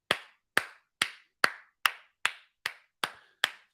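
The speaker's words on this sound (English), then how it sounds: "round of applause for Cody Moose in the Hoos" Nine evenly spaced, sharp hand claps ring out close and alone at a slow, regular beat, each with a short decay into silence.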